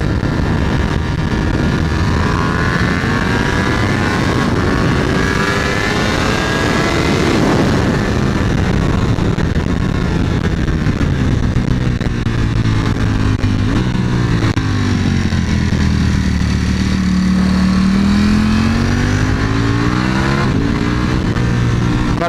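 A Ducati Panigale V4 S on a test ride, its engine roaring loud and close throughout, pitch climbing and falling as it revs through gears, with steady wind rush underneath.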